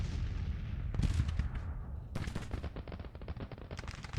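Rifle and artillery gunfire from troops in a Civil War strategy video game, a continuous rattling barrage of rapid shots with heavier booms, loud and dense throughout with bursts intensifying partway through.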